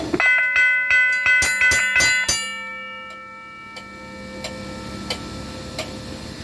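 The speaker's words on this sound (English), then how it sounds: "This one has to be my loudest bell." A railroad crossing signal bell taken from a dismantled trackside cabinet rings loudly and fast for about two seconds, its tone hanging and fading away, followed by scattered faint clicks and taps.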